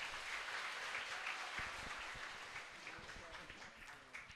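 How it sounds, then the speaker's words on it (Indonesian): A fairly distant audience applauds at a student talk show event, a continuous patter of many hands with some murmuring voices mixed underneath, tapering slightly toward the end. "Tepuk tangan buat beliau."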